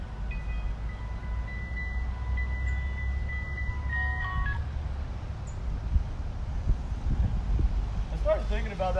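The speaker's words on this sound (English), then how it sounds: "The music box reminds me of the ice cream truck." A music box plays a faint, tinkling tune in brief bursts over a steady low background rumble, with voices speaking nearby.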